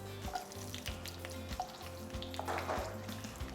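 Chana dal (Bengal gram) with pepper frying lightly in a pan for gongura thokku: a faint, steady sizzle beneath a low, pulsing hum, no speech.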